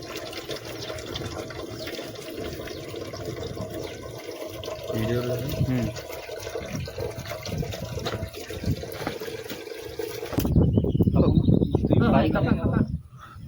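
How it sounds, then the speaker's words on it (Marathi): Water being poured into a pot to cook Maggi noodles at a riverside outing, with voices talking over outdoor ambience before a loud, close gush of pouring water near the end. "बघू शकता आम्ही पाणी टाकत आहोत आता"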